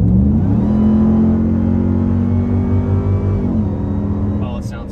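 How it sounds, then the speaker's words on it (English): A high supercharger whine from a Polaris Pro R side-by-side at about 65 mph rises and holds over a loud engine drone while driving, then drops off near the end. "Listen to the freaking supercharger scream."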